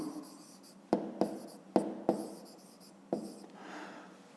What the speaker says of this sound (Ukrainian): Записуємо.